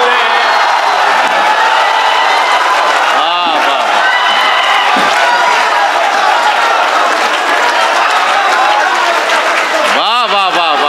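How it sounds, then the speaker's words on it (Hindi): Poetry recital audience breaks into loud, sustained applause with scattered cheers and whoops, filling the whole stretch as a dense crowd roar. "एक बार जोरदार तालियां बजाइए, जोरदार तालियां"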